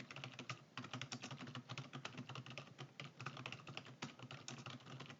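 Steady, fast typing on a computer keyboard while entering cell contents in an Excel spreadsheet, dense clustered key clicks running the whole time, close and fairly quiet, with no voices.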